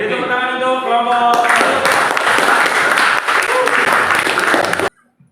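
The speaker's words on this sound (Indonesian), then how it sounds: "Oke, beri tepuk tangan untuk kelompok" Applause for a student group in a classroom presentation session, clapping filling most of the stretch over a tonal start with voices mixed in, then cutting off abruptly near the end.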